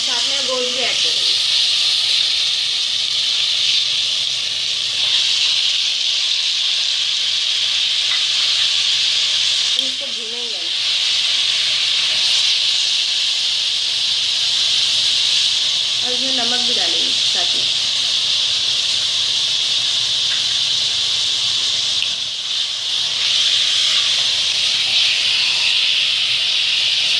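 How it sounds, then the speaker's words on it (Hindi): Mutton frying in a pan with ginger, garlic and green chili paste, a loud continuous sizzling hiss filling the whole stretch, with a few faint clinks from a utensil against the pot. "अब इसमें अदरक लहसुन डालेंगे और हरी मिर्ची जो पीसी थी साथ में और साथ में गोश्त भी ऐड करेंगे।"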